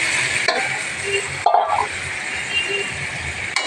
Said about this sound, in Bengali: একসাথে দিয়ে ভালোভাবে নেড়ে-চেড়ে নিয়ে